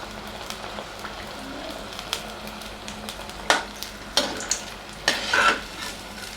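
Chili bajji, battered green chilies, frying in hot oil with a soft continuous sizzle, punctuated by sharper bursts and crackles as the pieces are stirred and turned.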